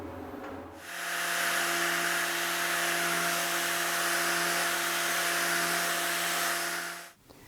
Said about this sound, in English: I'll start the grinder and touch off